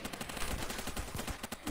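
Rapid bursts of gunfire in a Roblox shooting game, a dense rattling string of shots like automatic fire, steady and fairly loud throughout the short stretch, with no talking.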